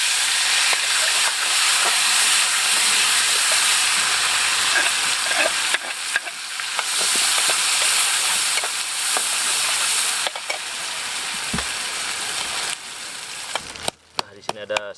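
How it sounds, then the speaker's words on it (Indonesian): Ground spice paste frying in hot oil in a wok gives a loud, steady sizzle and hiss with occasional stirring scrapes. It fades briefly near the end. "ini bumbunya yang sudah kita ulek tadi, kita langsung kita goreng."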